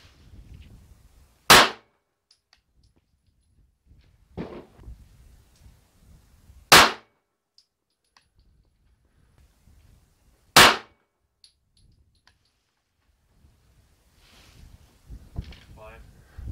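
Handloaded pistol rounds with Lehigh and Hornady XTP bullets over 5.4 grains of Unique fire as sharp, loud gunshots, several spaced a few seconds apart, with quieter shuffling and faint voice sounds in between.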